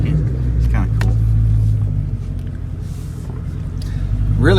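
Cadillac CTS-V engine shifting into second gear, a close, deep exhaust rumble whose pitch sweeps up, drops at the shift, then climbs again toward the end.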